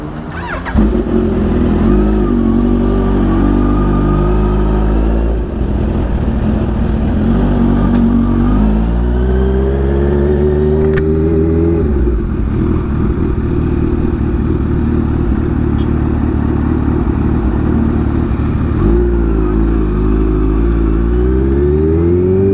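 A Kawasaki H2 motorcycle engine revs loudly close by, with repeated rising sweeps and a rumbling idle between them, heard in busy traffic.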